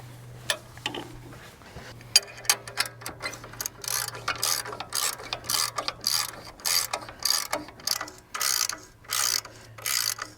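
A ratchet wrench tightens a bolt on rolling cultivators mounted to a Farmall Super A tractor, giving bursts of rapid clicking that grow steadier and louder toward the end, close by over a low steady hum, with no talk.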